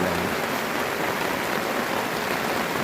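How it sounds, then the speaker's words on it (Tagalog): Heavy rain pours onto a tent at Anawangin Cove in Zambales, a dense, loud, unbroken drumming hiss close overhead, with no voices. "So ayan ang lakas ng ulan."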